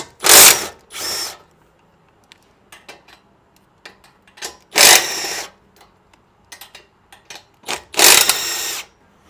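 A power ratchet or impact tool removing 13 mm bolts on a Ferrari F430 fires in three loud, close bursts, separated by quieter clicks and faint handling of tools and parts.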